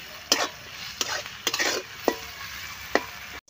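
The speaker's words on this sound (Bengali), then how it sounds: "তাহলে পেঁয়াজটা তাড়াতাড়ি ভাজা হয়ে যাবে।" Onions with salt being stirred in oil in a pan, with a faint background sizzle broken by several sharp spatula scrapes and clinks at irregular intervals, and no talking.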